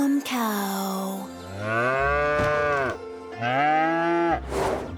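A cartoon cow on a farm moos loudly several times, drawn-out lowing calls separated by short pauses, close and clear with no talk over them.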